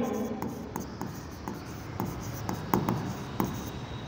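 Chalk or marker taps and scratches across a board as accounting terms are written out, a steady run of short close strokes under a teacher's speech.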